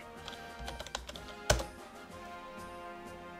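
A few scattered keystrokes on a computer keyboard, then one louder, sharper key press, all heard over faint background music.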